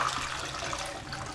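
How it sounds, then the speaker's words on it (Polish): Water poured out of a film developing tank while processing negative film from a 1968 Praktica Super TL camera: a brief, steady splashing gush that runs for about a second and a half, close by, with no talk. "O, teraz wylewam wodę."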